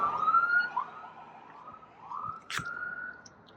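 A police or ambulance siren wails on a road in Canada in spring, a single faint-to-moderate wavering tone heard from a distance, with a sharp click partway through.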